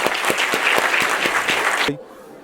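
Audience applause at a live reading event, a short burst of rhythmic clapping with a steady beat that stops abruptly, leaving a brief low voice.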